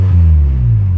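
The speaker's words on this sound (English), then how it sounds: "I'll give it a little bit of a rev so you can hear it" A Peugeot 206 GTi 180 engine revs up through a loud exhaust, a deep, close, steady rumbling roar that holds for about a second with no speech.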